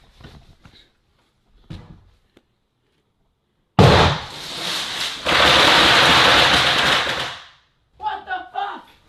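Fireworks set up inside a bedroom go off all at once, a sudden loud bang followed by several seconds of dense crackling and hissing bursts, with excited voices talking just before and after.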